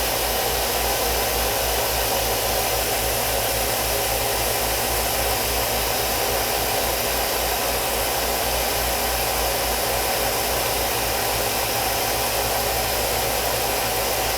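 A yarn spinning machine runs steadily, its spindles twisting fiber as the front bar adds twist and winds it onto bobbins; a constant, dense mechanical whir with a low hum holds level throughout, with no voices.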